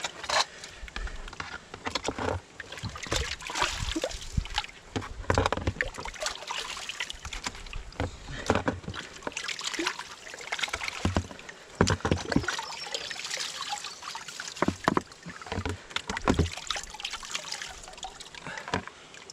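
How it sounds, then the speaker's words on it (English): Water and gravel slosh and swirl in a gold pan outdoors, with irregular wet splashes, scraping and grit rattling, close and fairly quiet, continuing for nearly twenty seconds. "I'm going to dump the rest of this in there and pan it out."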